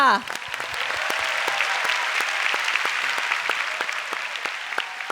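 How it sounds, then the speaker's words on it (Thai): Sustained applause from a live TV singing-competition audience, steady and fairly loud throughout, with scattered sharper claps and a brief voice at the very start. "ตอนนี้ขอเส ียง ปรบมือดังๆ ให้กับคุณแตกค่ะ"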